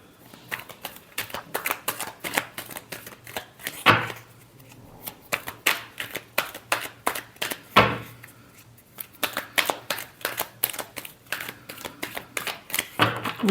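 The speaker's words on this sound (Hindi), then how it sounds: "last shuffle" Tarot cards being shuffled by hand, a steady run of crisp riffling flicks that pause briefly twice before resuming, close and fairly quiet, with no talking over them.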